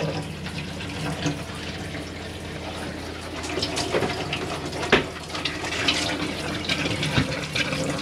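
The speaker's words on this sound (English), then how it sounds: "just pushing the water and the air out until you get a steady flow of water" Water runs steadily from a tap in an Auto Sleeper Wilton motorhome washroom as air is pushed out of the line, giving a continuous hiss and splash with occasional sputters, close and fairly loud with no talk.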